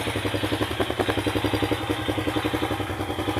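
Motorcycle engine running after a one-click start, a close, steady rhythmic putter with clattery pulses and no voices.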